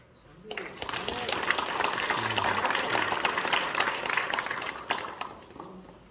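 An audience at a church gathering breaks into applause for several seconds after a pastor's sermon, a dense, fairly loud burst of clapping that swells and then trails off, with some voices mixed in.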